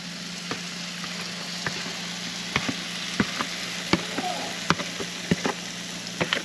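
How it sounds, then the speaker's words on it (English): Hoe cake cornbread batter sizzles steadily in a hot pan, a soft constant hiss broken by scattered crackles and pops. "Hear it sizzle."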